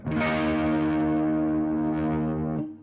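A sustained distorted electric guitar chord rings out loud with a gritty, slightly overdriven edge from amps just starting to break up, boosted by an Xotic EP Booster pedal, then cuts off sharply near the end.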